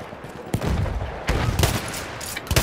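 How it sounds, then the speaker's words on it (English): Battlefield 1 machine gun fire crackles in several short, sharp bursts of loud shots over a background battle din. "Machine guns!"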